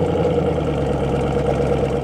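A 2013 Chevrolet Camaro ZL1 with a 6.2-liter supercharged V8 runs at a steady, loud, deep idle rumble with a constant low drone and no voices.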